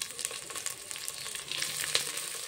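Oil sizzles steadily in a pan while brinjal masala curry cooks, a close, constant frying hiss with faint crackles.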